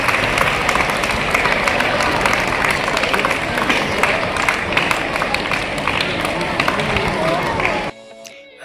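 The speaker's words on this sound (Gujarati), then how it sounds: "જોરદાર તાળીઓ સાથે" Loud, sustained applause from an audience at a school sports festival event, filling nearly the whole stretch before cutting off abruptly near the end.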